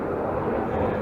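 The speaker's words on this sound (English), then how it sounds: "Sorry about the airplane noise." A propeller plane drones steadily overhead while practicing for an air show, its low broadband engine rumble filling the whole moment at a constant level, with no voices.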